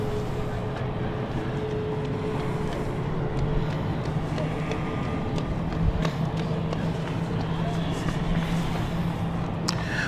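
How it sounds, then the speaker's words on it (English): Aircraft engines starting up at London City Airport: a steady low rumble with broad roar, continuous throughout, heard from some distance with faint background noise. "You can hear the engines in the background."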